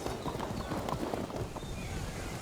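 Cavalry horses on a medieval battlefield in the strategy game Field of Glory 2, with hooves clip-clopping in a steady, moderately faint rhythm and no voices over them.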